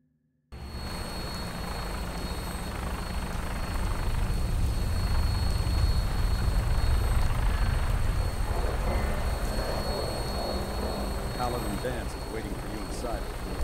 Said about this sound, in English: How many companions can you fit on a vertibird?